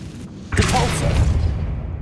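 A Depulso force spell fired in Hogwarts Legacy: after a quiet lead-in, a sudden whooshing thump bursts out and carries on as a loud rushing swell that fades slowly, with no talking.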